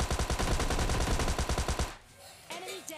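Rapid bursts of Tommy gun fire in PUBG, a dense run of loud repeated shots for about two seconds, then a quieter game sound with a faint voice.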